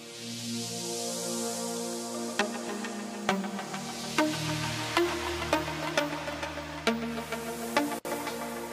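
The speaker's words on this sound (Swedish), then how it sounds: "Nästa är sweep. Det är egentligen bara en lång sån pad note här" A long synthesizer pad note sweeps slowly through its tone, a sustained wash of sound with a filter sweep in an electronic music arrangement, accompanied by faint rhythmic clicks and notes.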